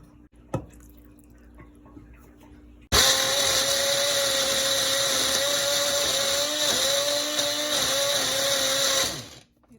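A blender grinding coconut chutney whirs loudly for several seconds with a steady grinding drone, after a few faint knocks, then cuts off abruptly.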